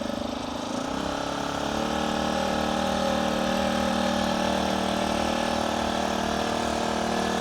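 Small FRP MB40 gas minibike engine running steadily near the listener, a loud continuous mid-pitched drone that settles into an even idle-like hum after a brief rise at the start.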